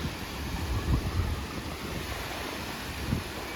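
Sea waves wash onto the shore at the Dzhemete beach resort, a steady rushing surf mixed with gusty wind buffeting the microphone and a few louder surges.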